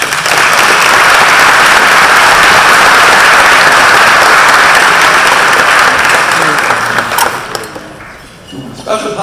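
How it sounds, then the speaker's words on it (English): A hall full of attendees at a chamber of commerce annual meeting claps loudly and continuously for several seconds, then the applause fades out and leaves brief quiet room sound. "Let me give a round of applause"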